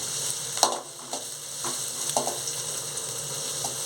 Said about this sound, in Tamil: நன்றாக வதக்கி விடவும்